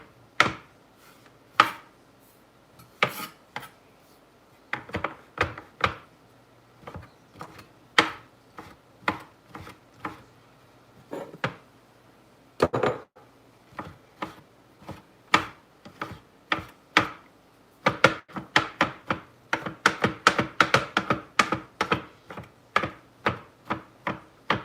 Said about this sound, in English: Make sure your mushrooms are nice and finely chopped up.